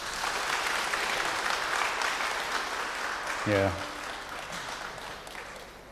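Audience applause at a Catholic church gathering on liturgical music, a steady wash of clapping throughout with a brief spoken word over it partway through.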